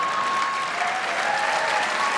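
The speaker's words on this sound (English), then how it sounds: "Round of applause, ladies and gentlemen." Steady audience applause after a joke at a stand-up comedy show, a dense, even wash of clapping throughout with a few faint whistles or cheers.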